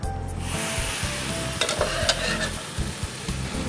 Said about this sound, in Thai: ใส่เส้นพาสต้าลงไปครับ